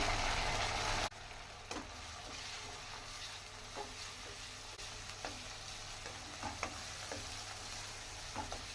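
Turmeric is stirred into vegetables frying in a pan, giving a steady close sizzle with soft scraping stir strokes throughout; the first second is louder before settling into an even frying hiss, with no voices.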